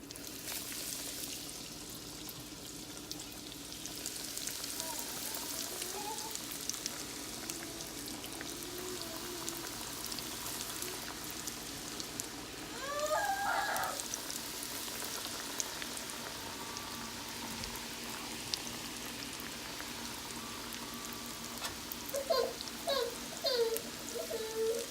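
King crab legs deep frying in hot oil, giving a soft, continuous sizzle and bubbling with a few brighter crackles and pops, fairly quiet and close with no talking.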